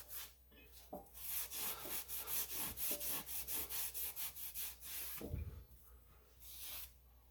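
Scuff pad scrubbing the cleaned mating surface of a Jeep JK rear Dana 44 axle housing, a steady run of rhythmic rasping strokes, close and fairly loud, ending in a heavier scrape and a softer rub.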